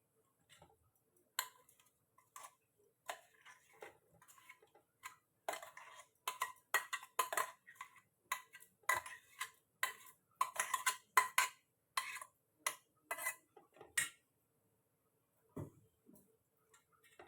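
Ground raw mango chutney paste scraped from a grinder jar into a bowl, a series of light metallic clicks and scrapes in irregular bursts, close and quiet, with no talking.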